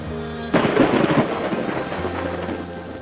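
A loud thunderclap breaks in after a soft musical note, then rumbles and slowly fades into a low, rain-like wash.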